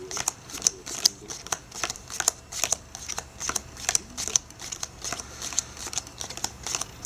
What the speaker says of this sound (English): I get the spectator to deal the cards into 4 even piles